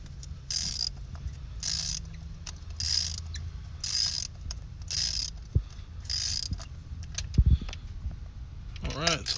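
Socket wrench working a spark plug loose from a 2012 Kia Soul engine, heard as a run of rhythmic ratcheting bursts followed by soft mechanical clicks and scrapes, close up and fairly quiet under background hum.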